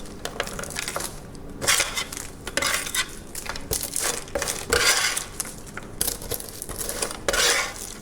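A pan of freshly made vegan caramel corn being shifted and set down, with clattering metal knocks, rattling kernels and scraping in irregular bursts, close and fairly loud, no talk.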